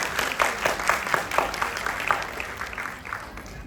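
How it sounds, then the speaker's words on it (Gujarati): A gathering near Bardoli applauds to welcome trustee Naren Kaka as he rises to speak. The clapping is fairly soft and somewhat distant, with scattered individual claps standing out in an uneven rhythm. "જોરદાર તાળીઓથી વધાવી લઈશું."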